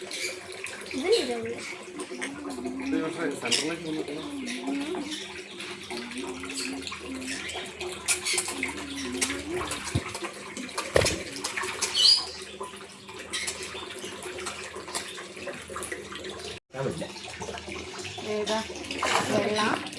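Running water splashes and trickles continuously as hands are washed, with people talking over it and a few sharp knocks.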